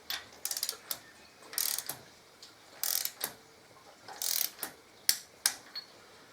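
A torque wrench ratchets and clicks while tightening a new spark plug on a 2014 Harley-Davidson Electra Glide. The result is a series of short, crisp mechanical clicks and ratcheting bursts, close up and fairly quiet, with no talking.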